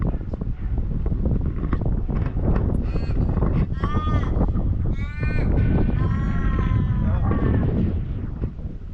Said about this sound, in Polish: Słyszycie te ptaki?